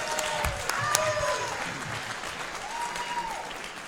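Crowd at a Hennepin County Attorney candidates forum applauding for their preferred candidate, dense clapping that is loud at first and gradually thins out over a few seconds.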